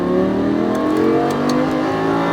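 Lamborghini Gallardo LP560-4 engine revving hard at full throttle, a loud, steady, rising roar that holds for a couple of seconds with no voices.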